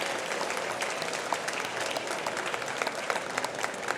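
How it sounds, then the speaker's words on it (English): Sustained applause from a crowd, dense steady clapping filling the whole stretch at an even level, with no voices standing out. "Big round of applause to everyone."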